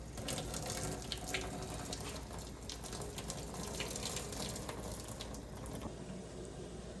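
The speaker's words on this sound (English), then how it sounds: "So right now I'm gonna drain all the hot water." Hot water poured from a pot of spaghetti into a sink pours and splashes in a continuous rushing stream, heard close and steady for several seconds with a slight hollow sink ring.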